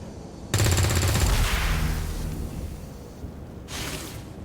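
Gunfire aimed at a device in XCOM 2: one loud, sharp burst of automatic shots rings out and decays, followed moments later by a shorter, fainter blast.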